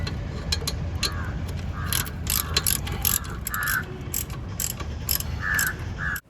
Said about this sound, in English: So let's tighten the remaining fasteners and be done with it.